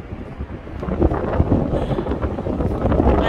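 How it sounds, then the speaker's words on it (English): Strong cold wind gusts across an outdoor microphone, a steady roaring rush that swells and buffets louder toward the end, with no talking. "I know you all can hear that wind blowing, and as hard as it's blowing, it's just that cold."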